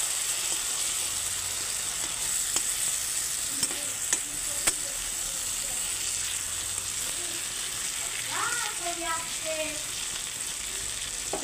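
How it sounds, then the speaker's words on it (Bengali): Pangas fish being stirred into a thick curry in a pan, a soft continuous sizzle with light scraping and clinks of the spoon, low and close, without speech. "এখন আমি মাছগুলো দিয়ে দিচ্ছি সব। একদম ঝোলটা মরে গেছে। মাছগুলো দিয়ে একটু নাড়াচাড়া করে নিচ্ছি।"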